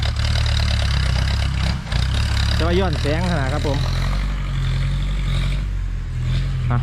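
John Deere farm tractor engine idling steadily nearby, a continuous low rumble with a slight dip partway through, while someone talks over it.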